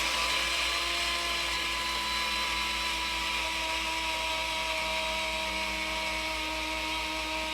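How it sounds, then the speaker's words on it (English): A blender grinds locally sourced oats into oils for goat milk honey oatmeal soap, making a steady, loud, high-pitched whirring drone that runs unbroken throughout with no voices. "So as I grind it, I just put it right into our oils, because it's okay if the blender you know, grinds this up more."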